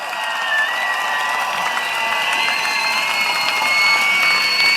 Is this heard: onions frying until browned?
no